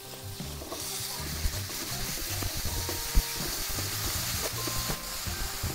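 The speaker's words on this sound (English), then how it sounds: "I can hear the sizzling of the pork." Ground pork with fresh chili sizzles in a dry pan, a steady soft hiss and crackle with occasional clicks of stirring, close and fairly quiet, without speech.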